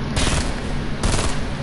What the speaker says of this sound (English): Okay, I'm shooting again.